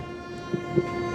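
A passenger train on the Bharuch to Delhi run rolls along near Ratlam in drizzling rain, a steady low rumble with a sustained tonal hum and a couple of brief clunks, with no voices.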